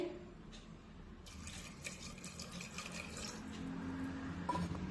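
Water pouring into a pot of chopped dill greens, a soft continuous splashing trickle that runs steadily for several seconds, close but fairly quiet, with no talking.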